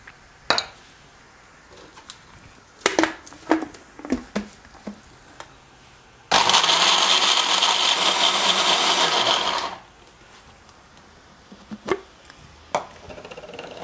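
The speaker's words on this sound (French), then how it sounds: "Je vais les mixer propre." A blender purees softened cashew nuts with water and cooking juice in one loud, steady whir of about three seconds, with quiet kitchen clinks before and after.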